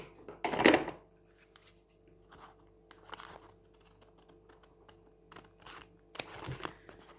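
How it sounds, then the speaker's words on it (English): Scissors snip away excess paper around a collaged envelope pocket: one crisp loud cut, then several lighter, scattered snips and rustles close by in a quiet room. "I'll just go around with the scissors and just cut off the excess"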